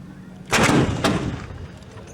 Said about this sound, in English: The gunners rapidly depress the tubes to fire a round at the same target with a low-angle quadrant of 350 mils.